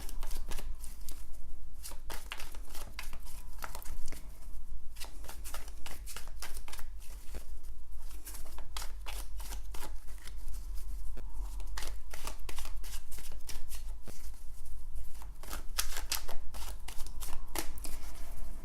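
Tarot cards being shuffled and handled up close, a continuous run of crisp riffling and flicking bursts over a low steady hum, with no talking.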